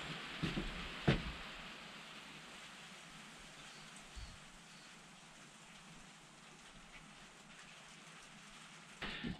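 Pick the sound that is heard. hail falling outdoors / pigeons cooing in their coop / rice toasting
hail falling outdoors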